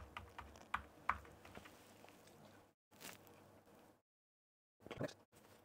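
Quick keystrokes on a computer keyboard, tapped out in short bursts while a password is entered on a router setup page, with a few sharper clicks and a silent gap partway through.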